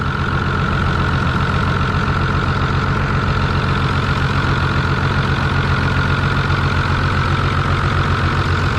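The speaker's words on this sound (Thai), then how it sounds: "เครื่องยนต์หกสูบนะครับ" A six-cylinder truck engine idles steadily with a deep, constant low rumble and a faint mechanical whine, loud and close, with no talking.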